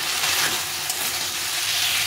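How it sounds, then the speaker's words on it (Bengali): Onion, garlic and tomato paste sautéing in a pan give a steady, close sizzle and hiss that runs evenly throughout, with no voices over it. "এই পেস্টটা আমি এখানে দিয়ে এটা সম্পূর্ণ কষিয়ে নেব"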